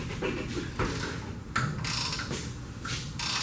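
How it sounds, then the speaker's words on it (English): A ratcheting gear wrench tightening a bolt while fitting a Cadillac engine into a Dodge, with irregular close mechanical clicks and metallic rattles in short bursts, no voices. "What did we ever do without gear wrenches before?"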